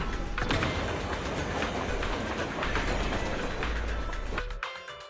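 A train rolls along in the video game Zenless Zone Zero, a loud, dense rumble of wheels and carriage clatter with rhythmic clacks that ends abruptly near the close, leaving a quiet hum.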